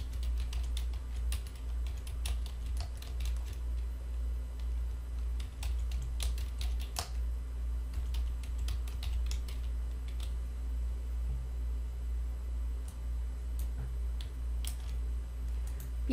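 Rapid, irregular clicking of fingers typing on a computer keyboard, close and fairly quiet, keystrokes in short bursts with brief pauses over a low steady room hum.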